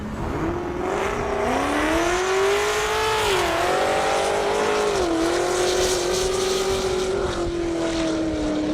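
A race car at a half-mile airstrip speed event screams past, its engine note rising and falling through gear changes as it accelerates hard, loud and continuous without talk.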